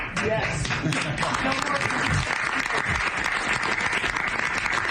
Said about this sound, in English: That was the press that broke out in applause.